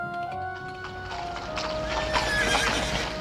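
A horse pulls a cart, its hooves clip-clopping at a walking pace while a whinny rises over them, fairly loud and close against a steady background.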